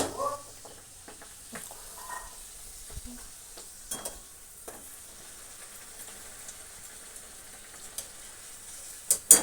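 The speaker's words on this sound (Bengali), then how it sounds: "একে একে মা এবার সব ডালপুরিগুলো ভেজে নেবে।" Dal puri deep-frying in hot oil, a quiet bubbling fry with scattered clinks and scrapes of a utensil, a few louder knocks near the end.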